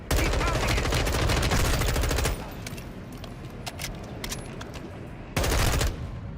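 Loud, rapid bursts of gunfire in Call of Duty: Modern Warfare II, with a dense volley at the start, quieter scattered shots and action noise in the middle, then another heavy burst near the end.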